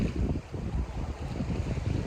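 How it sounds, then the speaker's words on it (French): Wind blowing hard over a sailboat running downwind at sea under genoa alone, gusty buffeting noise mixed with rushing water, continuous and close, with no voices. "Le vent s'est levé. On est vent arrière."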